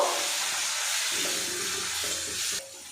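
Coriander powder, turmeric and grated tomato fry together in a pan with a steady, close hissing sizzle that drops away abruptly near the end, with no voices.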